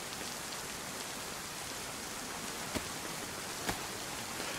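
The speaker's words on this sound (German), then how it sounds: "Es wird ja immer schlimmer mit dem Regen." Steady, dense rain pours evenly in the video game DayZ, with a couple of faint sharp ticks breaking through the constant hiss.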